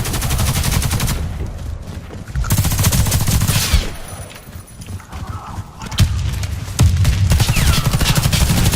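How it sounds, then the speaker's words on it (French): In the Warface video game, rapid bursts of automatic gunfire rattle loudly over a busy battle mix, with dense volleys broken by short lulls and renewed firing. "il suffit que les mecs vous voient et ils vous mitraillent littéralement"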